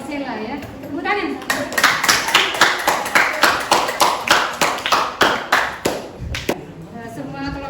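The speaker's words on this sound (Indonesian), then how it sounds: "Tepuk tangan." Children in a classroom break into rhythmic group applause, a run of steady, loud, evenly spaced claps lasting several seconds before trailing off.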